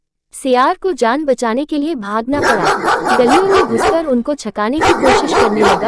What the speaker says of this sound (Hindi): तभी कुत्ते भान भान करके उसके पीछे पड़ गए